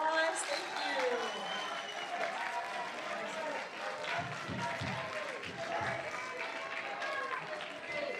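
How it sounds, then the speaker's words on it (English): Audience applause at a school seventh-grade awards ceremony, a moderate, fairly distant patter of many hands clapping in a room, with voices and movement audible beneath it. "Round of applause."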